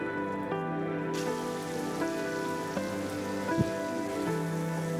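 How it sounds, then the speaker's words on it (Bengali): Masala spice paste sizzles steadily in a pan as it is sautéed while cooking rohu fish with cauliflower, a constant crackling fry with small pops and a few light clinks. "এইভাবে মশলাটাকে আমি 3 থেকে 4 মিনিটের মতো কষিয়ে নিব।"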